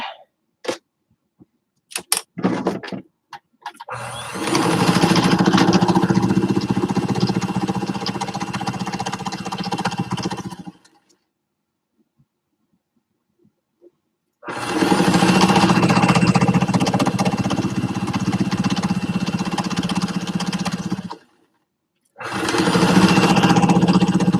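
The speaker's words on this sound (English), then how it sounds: "I can't believe I've had this sewing machine for 8 years." A sewing machine runs in long steady bursts with pauses between them, a busy mechanical whir close by.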